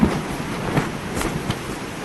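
Strong wind gusts roar through trees around a hammock camp in the Watagans, a continuous broad rushing noise with swelling surges and no speech.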